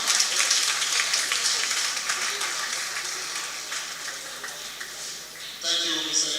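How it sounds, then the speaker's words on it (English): An audience at a university founders' day ceremony, the 59th at Adeyemi Federal University of Education in Ondo, claps steadily in a dense wash that fades slightly, and a voice speaks as it ends. "If you want to clap, please clap."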